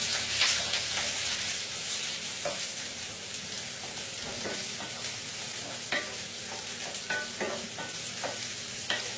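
Courgette and mushrooms sautéing with garlic in a pan, a steady close sizzle broken by soft scrapes and clicks as they are tossed and stirred.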